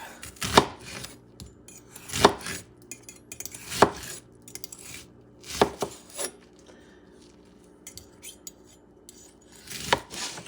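A knife chops through an onion on a cutting board with a handful of separate, crisp strokes spaced about a second or two apart, close and fairly clear with quiet gaps between cuts.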